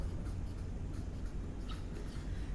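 Writing on a board makes a close, continuous scratching and tapping of strokes for a couple of seconds, with no talk over it.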